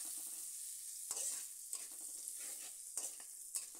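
Chopped onion fries in hot oil for a Bengali Sankar fish curry, a steady close sizzle broken by a few sharp scrapes and taps of a spatula against the pan, with no talking.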